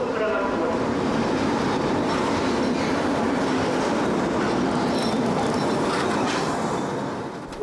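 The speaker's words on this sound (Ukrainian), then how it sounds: "вокзал у Дніпро прибуває потяг Одеса Краматорськ" A passenger train on the Odesa–Kramatorsk route pulls into Dnipro station, a steady, loud rumble of rolling railcars with faint wheel clatter that continues throughout and eases slightly near the end.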